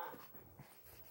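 A dog yodels and whimpers in a short, faint burst of soft wavering whines and breathy panting, close by with no other sounds.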